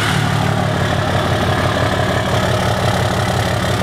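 A truck engine idles steadily after being started, a loud, constant low rumble with no break and no voices.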